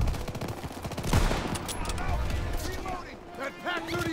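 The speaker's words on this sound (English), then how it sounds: "That Pack 38 still has a gunner. It's firing on our tanks." Gunfire in the World War II shooter Call of Duty WWII, with a Pak 38 anti-tank gun firing on tanks: rapid overlapping shots and bangs fill the scene, mixed with voices speaking over the battle.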